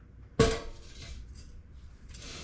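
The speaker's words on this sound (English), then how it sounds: "all the small parts go in the pan" Small metal parts from an Aida Express lantern clatter into a metal pan in one sharp, close clanking drop, followed by faint scraping and rattling.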